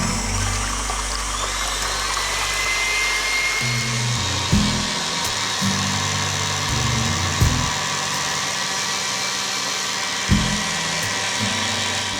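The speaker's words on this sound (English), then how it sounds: "Just pop that into my electric mixer and I'm just going to beat them up to almost firm peaks" An electric mixer beats egg whites toward firm peaks for a baked strawberry yoghurt ice cream Alaska, giving a steady loud motor whir with a few brief changes in pitch and bumps, and no talking.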